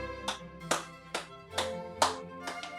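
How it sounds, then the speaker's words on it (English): Children in a music lesson clap along to music, about six sharp claps at a loose, steady pace over a faint musical background, fairly near and moderately loud. "Last couple claps"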